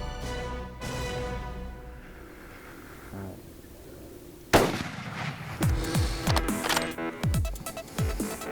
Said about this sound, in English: Great shot, Lamar.